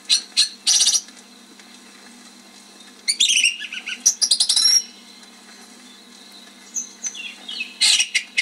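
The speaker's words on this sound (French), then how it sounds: "Du plus haut d'un sapin, la grive musicienne improvise sa réplique." A song thrush sings from the top of a fir tree in spring, bright repeated phrases in bursts separated by pauses, fairly close and clear, with a few softer chirps in between.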